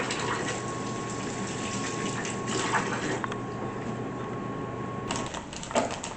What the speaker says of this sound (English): we'll wash our hands here.